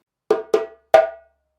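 Djembe strokes from the Guinean Fakoly rhythm, three sharp, close hand hits in quick succession, each ringing briefly and decaying, loud and alone in silence.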